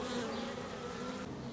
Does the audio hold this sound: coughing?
no